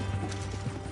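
Horse hooves clip-clop in a steady, close rhythm over a low drone in Red Dead Redemption 2, with no talking.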